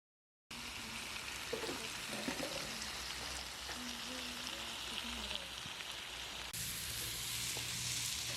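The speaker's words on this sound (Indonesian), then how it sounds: "Lalu aduk kembali hingga daging tercampur dengan bumbu-bumbunya ya teman-teman." Goat meat stirred with spices in a hot pan hisses in a steady, close sizzle, with occasional scraping and stirring sounds; the frying grows a little louder near the end.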